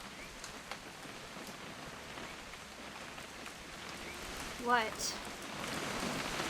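Steady rain patters in the video game What Remains of Edith Finch, a soft continuous wash throughout, briefly interrupted by a short spoken word near the end.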